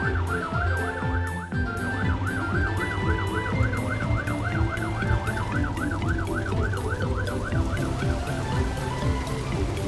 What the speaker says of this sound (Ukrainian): Їде пожежна машина.